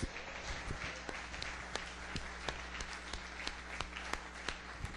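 A church congregation applauds together during a Portuguese-language sermon, a steady, dense wash of clapping with scattered sharper claps standing out, sustained throughout without talk over it.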